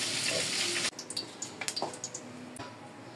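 Garlic sautéing in a pan for pork caldereta, a loud hiss at first that cuts off abruptly, followed by scattered crackles and scraping as it is stirred.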